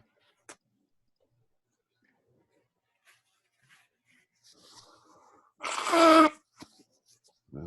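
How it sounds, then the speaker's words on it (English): A single short, sharp sneeze bursts out after a stretch of near silence broken by faint clicks and rustles. "I feel like I got to sneeze,"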